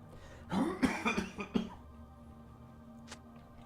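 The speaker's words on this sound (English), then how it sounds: "I got coughs today." One person coughs in a quick run of several hacking coughs lasting about a second, followed by quiet with a faint throat sound afterward.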